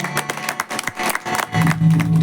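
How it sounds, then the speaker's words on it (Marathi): An audience at a devotional bhajan double-bari event breaks into loud, dense clapping for an arriving guest, brief and sustained with crowd noise. "त्यांचा एकदा जोरदार टाळ्या वाजवूया"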